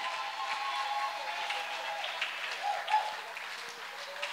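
A church congregation applauds and acclaims during a worship service, producing a muffled, steady spread of clapping with a murmur of voices blended in.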